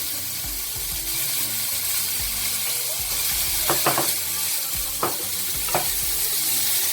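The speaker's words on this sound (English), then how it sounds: "then we let it cook for about a minute or a minute and a half as the chili goes in" Chili cooking in a pan sizzles steadily up close, with a few sharp scraping strokes of stirring cutting through the bubbling hiss, no speech.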